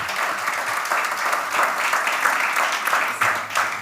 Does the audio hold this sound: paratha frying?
no